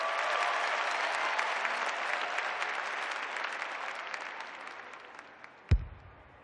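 Loud stadium crowd at an AFLW football match roaring and applauding in a sustained wash that slowly fades, ending with a sharp thump near the end.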